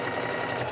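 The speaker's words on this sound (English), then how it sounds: "You want to like gently pivot it as the sewing machine's moving." A sewing machine runs steadily while zigzag-stitching along a curved edge of hoodie fabric, a close, continuous mechanical whir with rapid needle rhythm throughout the short burst.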